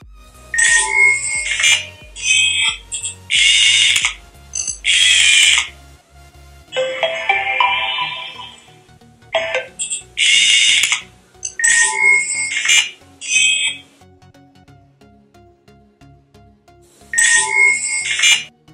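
Four short electronic tune sequences from a Vivo V15 phone's pop-up camera play one after another, bright chiming tones in bursts separated by brief pauses, clear and close.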